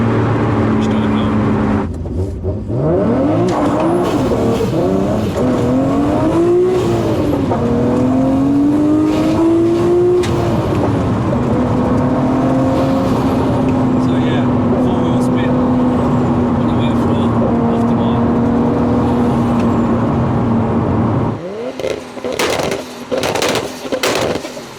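A Nissan Skyline R34 GT-R on semi-slick tyres revs its engine and turbo from inside the car, the note climbing and easing in long loud sweeps, then cutting abruptly to bursts near the end.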